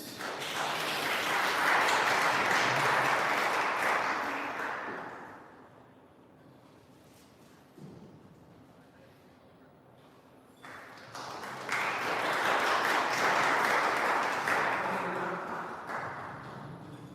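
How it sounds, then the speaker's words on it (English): An audience at a live business event applauds for the mayor of the Borough of Hertsmere, with two swells of sustained clapping separated by a quieter lull with a brief tap. "Let's have some applause, please"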